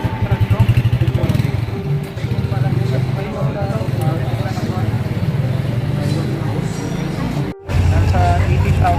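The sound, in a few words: KYMCO maxi scooter engine running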